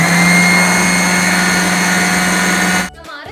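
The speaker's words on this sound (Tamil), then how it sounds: "ஸோ இப்போ இதை அரைச்சிட்டு வந்து காட்டுறேன் எப்படி இருக்குன்னு சொல்லிட்டு" A mixer grinder pulverizing torn wheat bread into powder runs as a loud, steady, high-pitched motor whine, then cuts off abruptly near the end, leaving a brief quiet tail.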